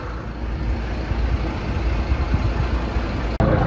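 A vehicle engine idles steadily close by, a continuous low rumble with a brief dropout near the end; no talking.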